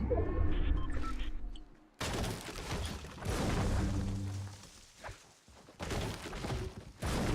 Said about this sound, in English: Shots are firing.